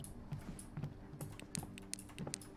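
Rapid mouse clicking during a two-player session of the horror game Devour, a string of close, sharp clicks in quick uneven bursts with no talk over them.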